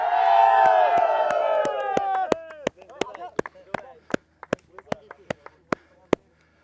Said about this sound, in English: Okay, now cheer.